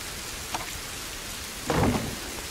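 A thunderstorm in the game A Plague Tale: Innocence: steady heavy rain hisses throughout while a rumble of thunder swells briefly near the end, with a fainter crack earlier, and no voices.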